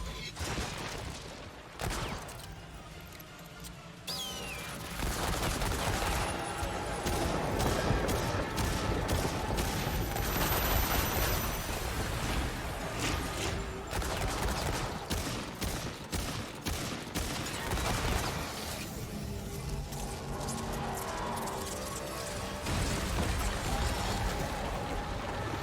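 Dense, continuous gunfire and explosive combat noise from the video game Lords of the Fallen stays loud and busy almost throughout, with rapid overlapping shots and mechanical clatter.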